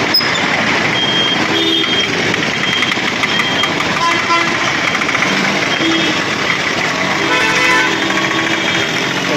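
Dense, loud street traffic at a busy signal in Tamil Nadu, with truck and vehicle engines idling and passing close by, scattered horn toots and beeps over a constant roar, and voices talking underneath.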